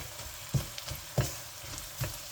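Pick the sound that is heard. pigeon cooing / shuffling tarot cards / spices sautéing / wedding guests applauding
spices sautéing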